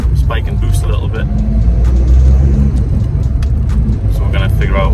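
A small race car on the move, its engine rumbling and rising in revs up close, with a voice speaking over the engine noise.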